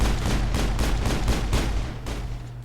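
Gunfire from the video game Mass Effect 3 rattles in a dense, loud volley of repeated booming shots over a low rumbling backdrop, easing off slightly toward the end.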